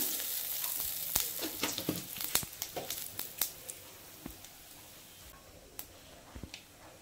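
Whole spices (cardamom, cinnamon, clove and bay leaves) sizzle and crackle in hot oil, with scattered sharp pops and ticks over a steady frying hiss that gradually settles.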